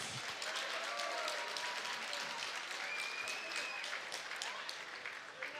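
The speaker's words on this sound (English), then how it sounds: "a round of applause for two great fighters" Sustained crowd applause for two mixed martial arts fighters after a hard-fought CW 66 bout, steady dense clapping at moderate volume from start to finish.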